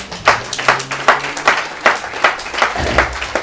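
A church congregation claps in a steady rhythmic beat, about two claps per second, close and full, with a low murmur of voices underneath.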